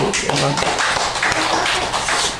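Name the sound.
congregation clapping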